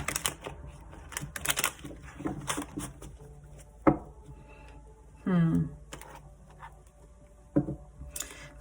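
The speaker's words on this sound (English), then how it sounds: "I need to give these a really good shuffle" A tarot deck gets a vigorous shuffle, quick papery riffles and clicking card bursts clustered early and again near the end, fairly quiet and close.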